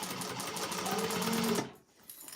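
A sewing machine stitching with contrasting thread, a steady fast mechanical whir that runs for about a second and a half, stops, then starts again briefly.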